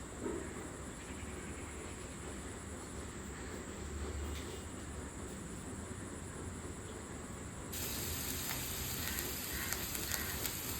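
Blended onion paste sizzling in hot oil in a pan for a Bata fish curry, a steady, fairly quiet frying hiss that holds throughout and brightens slightly toward the end.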